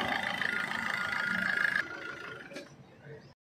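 A Maruti S-Cross Zeta car engine idles with a smooth, steady hum at moderate volume, while people talk nearby, before it fades and stops.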